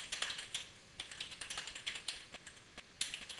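Quiet, rapid typing on a computer keyboard, with a run of closely spaced key clicks and a few sharper taps throughout, heard alone with no voices.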